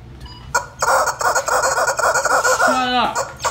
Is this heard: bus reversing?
no